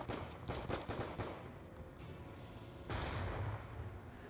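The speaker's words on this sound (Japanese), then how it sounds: "でも後ろからすごい銃声が聞こえてるんですが、" Gunfire in Call of Duty: Black Ops 2 comes as faint bursts of rapid shots early on, then a lull, then another muffled burst of fire, distant and low in level.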